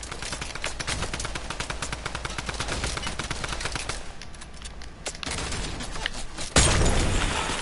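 Rapid bursts of drum gun fire in an arena match of a battle royale shooter, dense and continuous with a sharper, louder volley near the end.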